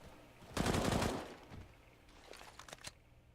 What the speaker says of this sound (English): Great shot from Guardian to take down Draken